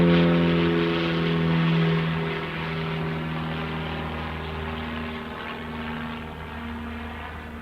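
A Beechcraft propeller plane flies past near Paine Field, a strong buzzing drone with clear propeller tones that is loudest at the start and slowly fades as it moves away.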